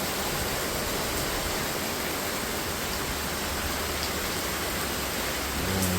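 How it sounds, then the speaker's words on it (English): Steady, calm rain falling in Brazil, a continuous even hiss of drops with no breaks, heard up close and alone for the whole stretch. "the rain here is so calm"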